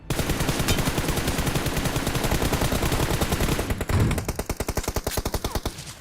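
Sustained rapid automatic gunfire in the BGMI battle royale game, near the Mirado area: an unbroken, rhythmic stream of loud shots that keeps pounding throughout, briefly changing tone midway before continuing.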